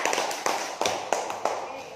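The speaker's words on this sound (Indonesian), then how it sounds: "Tepuk tangan untuk kelompok 2." A group of schoolchildren in a classroom applauding, giving a short run of steady, evenly spaced claps at moderate loudness.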